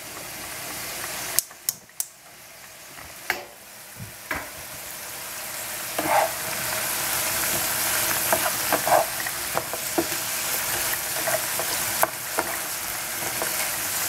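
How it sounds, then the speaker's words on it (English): Brussels sprouts fry over strong heat, a steady close sizzle with scattered sharp clicks and scrapes of stirring throughout. "And cook this with stronger fire."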